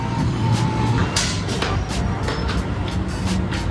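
Trucks and cars pass on a busy roadside with a steady engine rumble and whooshing passes, while a voice talks over the traffic.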